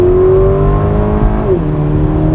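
Porsche Macan T SUV with a PDK gearbox accelerating hard at full throttle, its engine note climbing steadily, then dropping sharply at a quick upshift before rising again, loud and close throughout.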